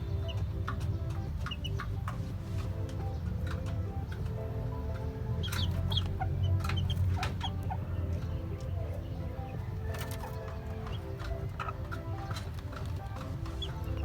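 Hen with her young chicks of a Sweater bloodline on a gamefowl farm, clucking and peeping steadily and softly over busy outdoor ambience, with scattered short calls.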